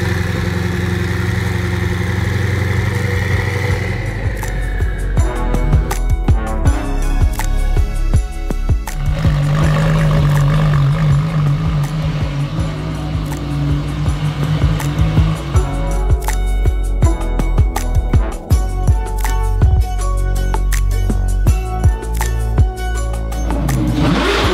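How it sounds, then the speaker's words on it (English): A turbocharged Lamborghini Murcielago engine idles and revs in repeated surges, its deep rumble swelling and falling over some twenty seconds, loud and close, with turbo whine and mechanical clatter through the revs. "Listen to this, the turbos."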